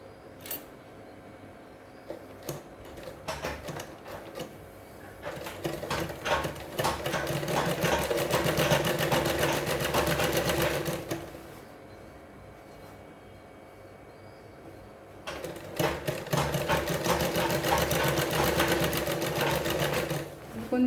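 A sewing machine stitches a collar onto a shirt collar in bursts of rapid, close mechanical clatter, with a long steady run in the middle and pauses between runs where quiet talk is heard.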